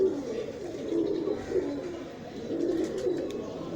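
Kamgar pigeons coo in low, repeated throaty rolls at close range, several soft calls in slow succession against quiet room noise.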